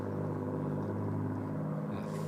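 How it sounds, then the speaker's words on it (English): A Spitfire aircraft engine roars overhead during a golf broadcast, a steady throaty drone that holds loud and constant throughout with no talk. "That throaty engine sound."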